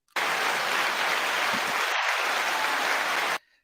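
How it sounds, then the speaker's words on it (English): Applause for entrepreneur Taylor Cole, a dense, steady wash of clapping from an audience, loud and continuous for about three seconds before stopping abruptly. "You got your first applause of the day."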